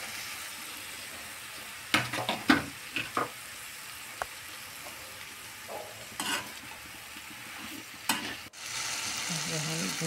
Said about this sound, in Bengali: এখন দিয়ে দিচ্ছি ঝিঙ্গা